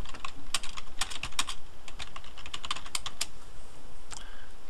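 Typing on a computer keyboard while entering a short message into a software text field, heard as rapid, uneven clusters of close, crisp key clicks with brief pauses and no talk.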